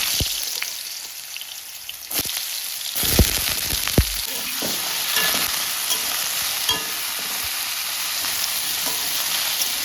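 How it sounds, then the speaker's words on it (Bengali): Potatoes fry in mustard oil in a hot wok, a steady close sizzle with occasional scraping stirs and clanks of a utensil against the pan. "কড়াই গরম হয়ে গেছে প্রথমে আমি আলুগুলো ভেজে নেব"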